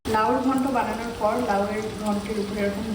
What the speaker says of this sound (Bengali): এখানে কিন্তু আমি মাছ ভাজতে শুরু করে দিয়েছি